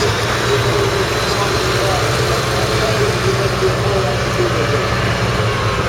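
A vintage Nuffield 460 tractor engine runs with a steady, loud diesel drone and rumble at a country show parade, continuous throughout with no clear voices.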